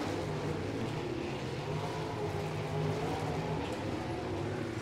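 Sprint cars race at Paragon Speedway during a heat race, a continuous, distant engine roar that drones and swells slightly as the pack circles the dirt track.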